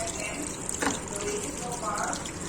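Water flows steadily into a washing machine at the start of its cycle, a soft continuous hiss and gush, fairly close and faint, with a brief clunk partway through.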